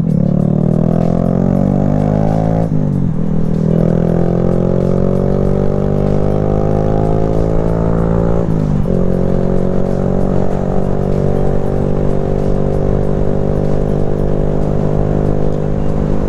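A motorcycle being ridden on an errand run roars loudly and close, its engine pitch climbing through the gears with two clear shift breaks, alone without speech.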